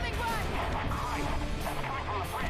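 Continuous video-game bombing with rumbling explosions and crashing impacts, dense and loud throughout, with voices talking over the barrage.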